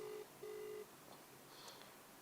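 Two short electronic phone call tones sound close and faint over quiet line hiss, a call that connects but does not ring.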